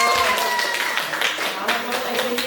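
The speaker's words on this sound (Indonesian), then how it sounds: "Ya, tepuk tangan." A group claps at a school gathering, the hand claps close and fairly loud, coming in uneven bursts through the whole short stretch.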